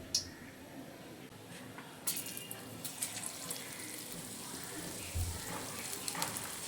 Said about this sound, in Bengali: এবার আমি তেলের মধ্যে ছেড়ে দেব।